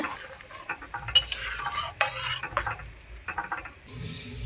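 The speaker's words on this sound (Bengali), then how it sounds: "খুন্তি দিয়ে একটু নেড়ে চেড়ে নেব" A metal spatula scrapes and clinks against a pan in irregular bursts, stirring taro pieces with soda in a village-style cooking setup, close and fairly loud with a faint sizzle underneath.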